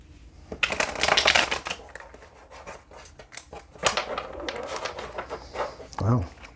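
A deck of tarot cards being shuffled, with quick bursts of riffling and fluttering followed by softer handling, while a voice talks at times.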